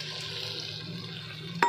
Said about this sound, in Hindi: इसके अंदर डाल दो पानी, इसी कटोरी को करके मिला दो